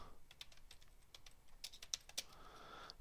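Typing a post title on a computer keyboard in a WordPress admin screen, a rapid irregular run of quiet, close key clicks with brief pauses and no talking.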